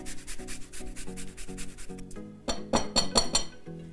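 Lemon being zested on a grater for tuna patties, rhythmic close rasping strokes that quicken partway through, alongside a few light clinks.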